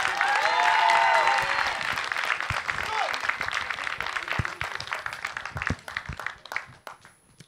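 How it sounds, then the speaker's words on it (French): Studio audience applause on a French-language TV show, loud continuous clapping that slowly tapers with scattered distinct claps, while a voice talks over it. "Applaudissements s'il vous plaît"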